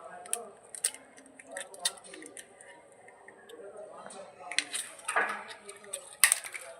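An egg is worked into a chicken marinade with white pepper in a bowl, giving irregular clinks, taps and wet squelches of utensil against the bowl, close up, with a few sharper knocks near the end.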